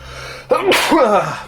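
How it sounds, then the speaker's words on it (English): A single close, loud sneeze with a quick intake of breath followed by a sharp burst and a trailing exhale. "I gotta sneeze"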